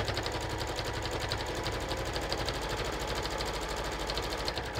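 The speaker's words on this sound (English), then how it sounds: "I'm going to take 2 stitches forward, 2 stitches back." A sewing machine runs steadily for about five seconds, stitching forward and then back while sewing a single welt pocket, its rapid even clatter close and continuous with no talk.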